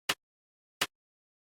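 Two short, crisp hi-hat hits from a sampler, each with a shifted start point and a quick fade out, spaced under a second apart and heard alone with silence between, followed by the start of a third sound.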